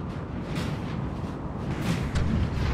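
Steady rumbling barrage of artillery fire from a Napoleon Total War multiplayer line battle, dense booms blending into a continuous roar with a few sharper reports swelling toward the end, no voices over it.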